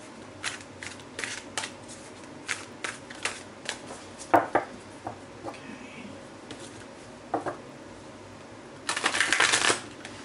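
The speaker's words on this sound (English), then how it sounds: "I'm going to want to shuffle the cards really good today" A deck of cards being shuffled in repeated crisp riffling bursts, with a longer, louder riffle near the end; close and clear, no talking.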